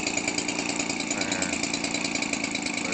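A Weed Eater Featherlite 17cc radio-control aircraft engine idles steadily and continuously, a dense buzzing drone with a fast, even firing pulse, close and fairly loud, with no voices.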